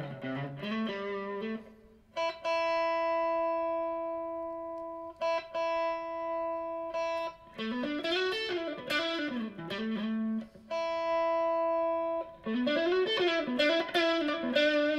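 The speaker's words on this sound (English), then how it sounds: "Which is just kind of a low to medium gain overdrive." Electric guitar played through a low to medium gain overdrive, alone with no talk: sustained chords and ringing single notes, some bending and sliding melodic lines, separated by brief pauses, with a moderately driven, harmonically rich tone.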